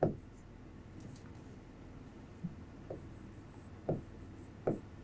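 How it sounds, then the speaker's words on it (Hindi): Pen writing on paper during a maths lesson, with soft scratchy strokes and a few sharper taps spread over a quiet background, close and faint. "तो सबसे पहले हम लिखते हैं"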